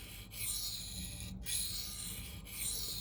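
A Spyderco Native 5 knife with 4V steel being sharpened: rhythmic rasping strokes across the stone, about three passes in quick succession, close and fairly quiet.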